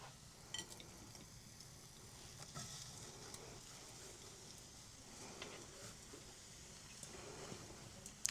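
Onions frying in a very hot pan inside a pizza oven give a faint, steady sizzle with a few soft clicks and utensil touches, ending in a louder knock.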